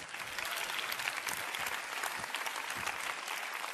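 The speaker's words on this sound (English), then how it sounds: "Let's give them a round of applause." Audience at a women's forum applauding steadily, a dense, even wash of clapping from a room full of people, sustained throughout with no talk over it.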